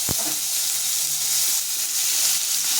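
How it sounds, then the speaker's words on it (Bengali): Tomato and cumin fry in hot oil in a pan, making a loud, bright, continuous sizzle and hiss up close with a brief clunk at the start and no talking. "টমেটোটা ভালো করে জিরেটা ভালো করে ভেজে নিতে হবে"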